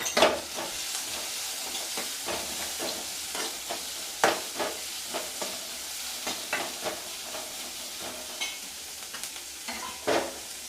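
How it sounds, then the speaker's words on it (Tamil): Two onions, green chillies and curry leaves sauté in a little oil, with a continuous close sizzle broken by repeated stirring scrapes and spatters throughout. "அதில் கொஞ்சோண்டு 2 வெங்காயம், பச்சை மிளகா, கொஞ்சம் கருவேப்பிலை, இது நல்லா சாத்தே ஆகணும்"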